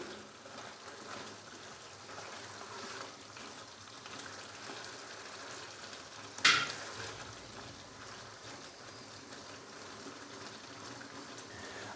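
Cubed onions and whole green chilies fry in a pan for chicken do pyaza, giving a soft, steady sizzle with one brief sharp clatter partway through as they are stirred.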